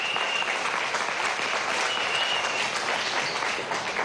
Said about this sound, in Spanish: Vamos a darle un aplauso a esta gente, ¿vale?